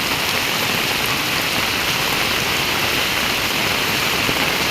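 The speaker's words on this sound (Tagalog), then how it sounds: "Grabe ang ulan, walang puknat, walang tigil ang ulan" Heavy monsoon rain pours down in a constant loud hiss of dense drops, steady and unbroken throughout with no voices.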